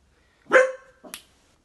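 A dog gives two sharp barks close by, the first louder and longer, the second a shorter yip half a second later, with silence around them.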